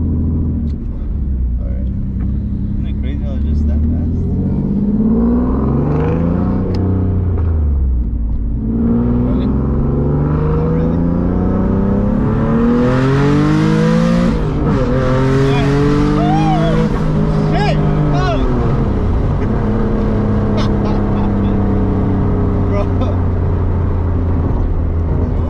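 A single-turbo Nissan 370Z engine roars and revs continuously with rising and falling pitch as it accelerates hard, while people talk excitedly over the noise.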